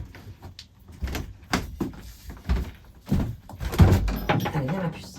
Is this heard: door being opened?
yes